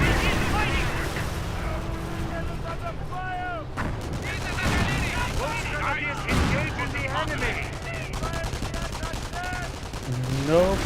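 Pak 38 anti-tank gun firing at an M10 in a Company of Heroes battle, with loud repeated cannon shots and bursts of gunfire amid continuous combat noise while a commentator talks over it.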